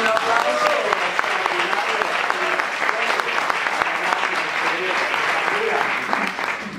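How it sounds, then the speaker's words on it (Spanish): A training seminar audience breaks into sustained, fairly loud clapping, with scattered voices heard beneath the applause before it tapers off at the end. "Muy bien, un aplauso"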